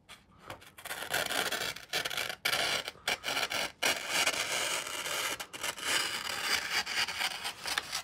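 Trimming the edges of a printed sublimation gaming mouse desk pad, heard as close, steady rubbing and scraping cuts in bursts with brief pauses between strokes, with no talking.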